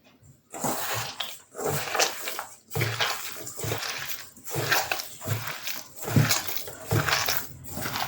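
Peanut butter date cookie dough, studded with date chunks, kneaded by hand into a smooth ball: close, rhythmic squishing and sticky crushing bursts repeat steadily throughout with no talking.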